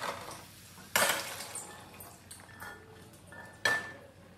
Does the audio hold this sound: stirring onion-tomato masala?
yes